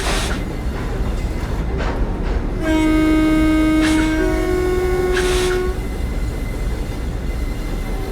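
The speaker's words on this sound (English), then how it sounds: "So the horn is a two-tone horn here with the space bar and the B key, which we will test out now." The two-tone horn of a Class 60 locomotive in Train Simulator 2015 sounds one loud, sustained blast of about three seconds, its two pitches shifting partway through. A steady rumble of the locomotive runs underneath before, during and after.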